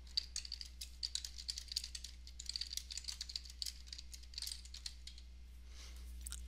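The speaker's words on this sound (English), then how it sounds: "I can type my endnote" Steady, quick clicking of keys on a computer keyboard while an endnote is typed, close and soft over a low electrical hum, no speech.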